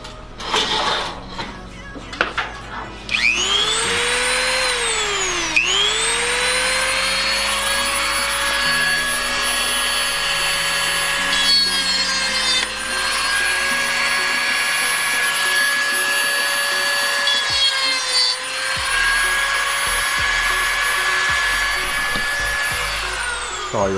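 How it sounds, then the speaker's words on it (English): Dremel rotary tool whining at high speed while working on a Skyline, a loud sustained tone that dips and rises as it bites, with brief handling noise at the start. "so we're breaking out the Dremel"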